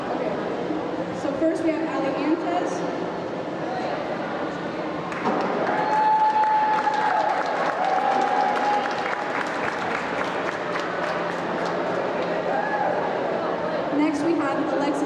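Crowd at a high school swim senior night meet in Shawnee, Oklahoma, applauding and cheering in a sustained, loud wash of clapping that swells midway, with voices calling out and talk underneath.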